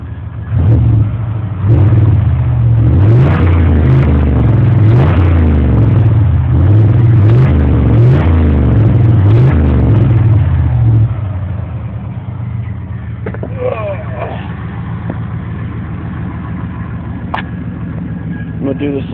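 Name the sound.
truck engine revving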